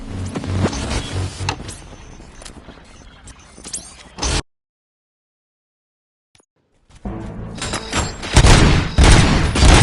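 Gunfire in the video game RoboCop: Rogue City: loud bursts of shots and booming impacts, then a sudden stretch of near silence, followed by more intense firing and blasts.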